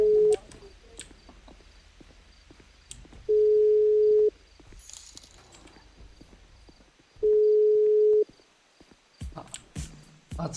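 An unanswered phone call rings out as a ringback tone: two long, steady beeps several seconds apart, with faint clicks and handling noise between them.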